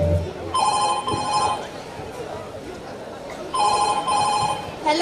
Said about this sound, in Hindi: आज कविता का जन्मदिन और विश करने के लिए उसकी दोस्त रूबी का कॉल आता है।